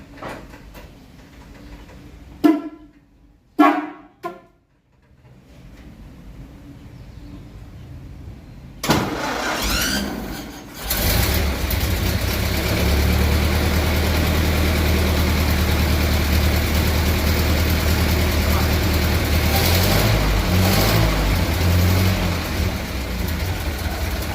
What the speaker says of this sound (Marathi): आपण ज्या गाडीची आता चर्चा करतोय ती गाडी सुद्धा चालू आहे